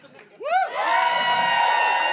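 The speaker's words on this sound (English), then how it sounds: "Wait, don't applaud." A television talk show studio audience whoops and cheers, the noise swelling quickly and holding steady as a loud, sustained crowd roar.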